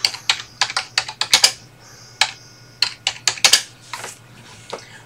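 Someone types on a computer keyboard while working on an SVG design, a close, irregular run of crisp key clicks in short bursts with brief pauses and no voice.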